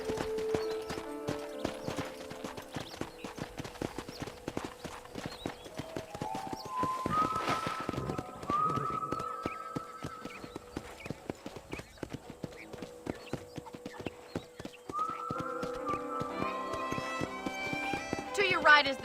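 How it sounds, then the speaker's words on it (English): Horse hooves clip-clopping steadily as a rider moves through a property in the Red Dead Redemption video game, a continuous moderate trot with music and speech layered on top. "let's see if you can still ride a horse"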